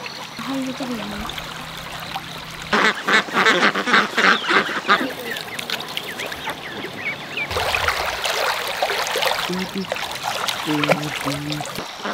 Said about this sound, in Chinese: 你看这个鸭子，闻到香味都过来了。